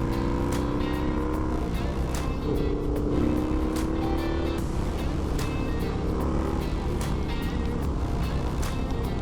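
A Harley-Davidson Sportster motorcycle being ridden, its engine droning loud and continuous beneath heavy wind rush, with slight shifts in pitch as it accelerates, heard from on the bike with no talking.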